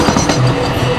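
A train runs along track inside a subway tunnel, a loud, close, steady rumble with rhythmic clatter filling the whole moment.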